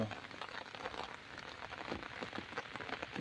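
Gentle drizzling rain falls steadily on a cotton field in a farming area, a soft continuous patter of drops close by with no voices.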